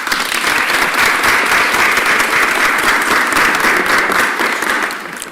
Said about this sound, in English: give a round of applause to President Boulware